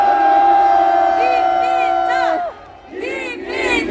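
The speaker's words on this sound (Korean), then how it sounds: "뜨거운 박수로 환영해 주시겠습니다" Crowd at an anti-impeachment political rally on the eve of the March 1 holiday cheering and shouting loudly, with rising whooping voices that dip briefly before swelling again.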